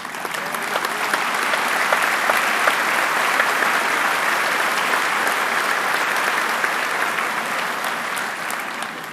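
A large crowd at a 2011 Wadsworth High School commencement applauds the valedictorian, a dense, steady roar of clapping that holds at even loudness for about nine seconds with no speech over it.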